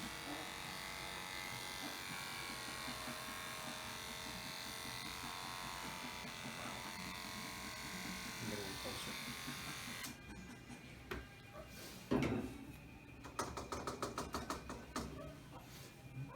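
Electric clippers buzz steadily at close range while shaving a dog's neck over the jugular vein before a blood draw at a veterinary clinic, with brief handling knocks near the end.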